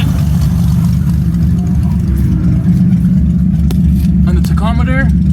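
A car engine idles steadily at about 1500 RPM with a tachometer hooked to the coil, a loud continuous low drone that stays even throughout, with a brief chirp of another sound near the end.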